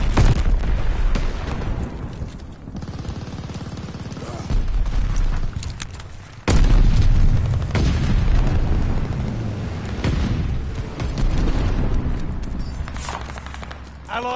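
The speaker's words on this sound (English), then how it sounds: "Watch the sticky bomb" Heavy booms and bursts from a Call of Duty: Vanguard online match, with a sticky bomb explosion among continuous loud battle noise, including a sharp blast about halfway through.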